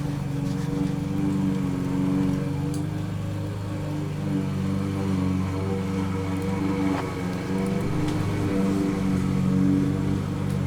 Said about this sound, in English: Someone is mowing the lawn outside.